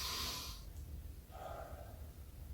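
Abdominal breathing while seated after a fascia stretching exercise: an airy, fairly loud breath rushes out at the start, then a softer, lower breath follows after a short pause, with no talking.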